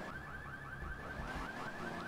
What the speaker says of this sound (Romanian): Hai că acum a început să sune și alarma